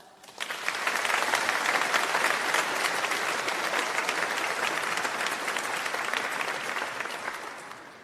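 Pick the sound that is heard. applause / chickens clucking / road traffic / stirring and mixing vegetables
applause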